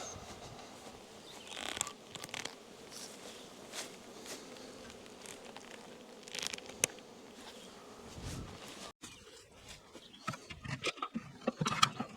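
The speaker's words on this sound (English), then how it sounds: "look like our bees are already starting to come up into this top box here" Honey bees buzzing around an opened hive while its top box is inspected outdoors, a steady low hum with faint scattered rustles and handling noises, the drone thinning and growing quieter toward the end.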